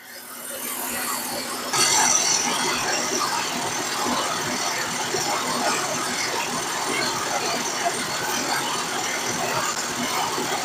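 A carbureted petrol engine runs steadily at idle, a continuous rumbling drone with a brief rise in intensity early on, heard close up.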